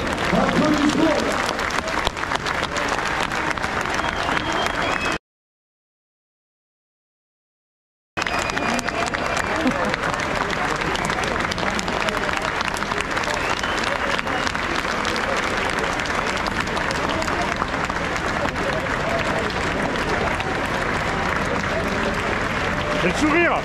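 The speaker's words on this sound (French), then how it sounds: "Minute d'applaudissements pour Germinal, pour tout ce qu'il a fait." A crowd at the 100 km de Millau 2025 ultramarathon applauds a runner with sustained, dense clapping, broken by a few seconds of silence, while someone talks over the applause.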